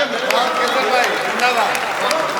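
An audience applauds at a Hindi comedy and satire poetry recital. The clapping is dense, steady and fairly loud throughout, with voices mixed into the crowd noise.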